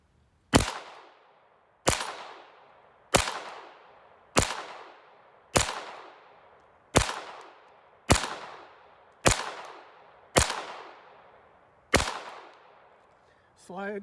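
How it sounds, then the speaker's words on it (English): Smith & Wesson Victory .22 pistol fired at 10 yards with fiber optic iron sights: ten sharp, loud shots at a steady, roughly one-second rhythm, each with a short decaying ring and no talking. "we're going to do a little shooting and see how we do"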